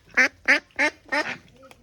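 Duck quacking in hand while being held for weighing on an Assam duck farm, four loud, close, nasal quacks in quick succession, then a softer trailing call.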